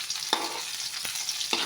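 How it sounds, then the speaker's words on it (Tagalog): Onion, with garlic to follow, frying in a pan for adobong sitaw: a steady soft sizzle broken by about three quick scraping strokes of a spatula, close and fairly quiet. "haluin lang natin hanggang sa maluto yung sibuyas"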